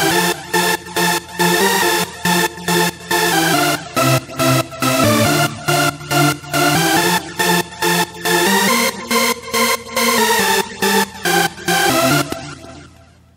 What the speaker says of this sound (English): now that we have balanced our oscillator levels, the synth should sound like this.